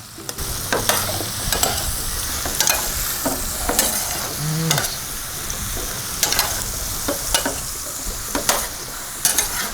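Mixed vegetables sizzle in a frying pan while being stirred and tossed together, a steady frying crackle broken by repeated sharp scraping and clanking of the utensil against the pan, close and continuous.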